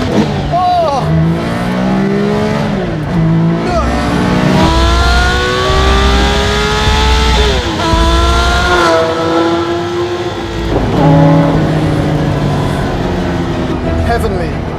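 A Singer-reimagined Porsche 911 DLS engine revving hard and accelerating through gear changes, rising howls broken by downshifts, loud and close from inside the car with no talk.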